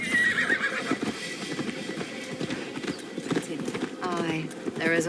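Horse hooves clip-clop steadily with a whinny near the end while riding through a Gloucestershire forest in Assassin's Creed Valhalla, heard under continuous talk throughout.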